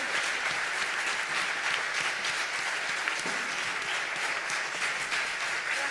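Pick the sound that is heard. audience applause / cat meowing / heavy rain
audience applause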